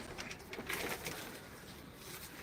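Pigeons coo softly at a distance over a steady, faint background hiss, with no voices.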